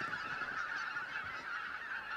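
A flock of red-breasted geese honking continuously, many overlapping calls forming a dense, steady clamour at moderate distance with no voices.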